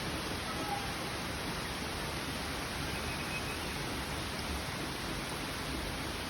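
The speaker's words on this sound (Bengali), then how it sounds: "দুর্দান্ত বৃষ্টি হচ্ছে।" Dense, unbroken roar of heavy rain pouring down in Bengaluru, steady and even throughout.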